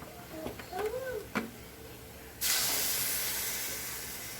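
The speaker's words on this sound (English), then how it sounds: "So now I'm going to add some whole milk." Whole milk poured into a simmering beef pot pie filling gives a steady, close hiss and spray of liquid that starts suddenly and carries on, after a few brief clinks and scraping sounds.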